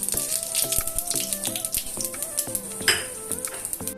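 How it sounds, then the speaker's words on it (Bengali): Bay leaf, cardamom and cumin seeds crackling in hot oil in a pan, a steady sizzle with clinks of utensils against cookware throughout. "এখন আমি এই তেলটা গরম হয়ে গেছে এর মধ্যে দিয়ে দেবো তেজপাতা ফোড়ন এলাচ ফোড়ন আর দিয়ে দিচ্ছি জিরা"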